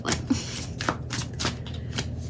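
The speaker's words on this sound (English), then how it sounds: "Just go back to this shuffling." Tarot cards being shuffled by hand, a run of close riffling bursts in an uneven rhythm, clear and alone.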